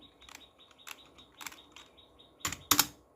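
Someone types a chat message on a computer keyboard in irregular clusters of clicks that build to a couple of louder, sharper keystrokes near the end.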